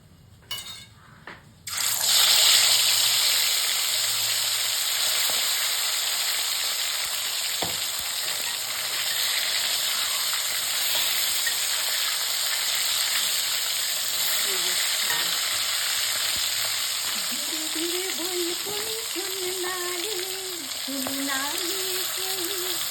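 Turmeric-coated fish hits hot oil and bursts into a loud, close, continuous sizzle that crackles steadily and stays strong to the end.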